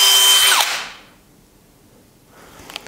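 A cordless drill-driver with its anti-kickback system switched on whirs loudly and steadily for under a second, then cuts out abruptly, leaving near silence before faint handling noise at the end.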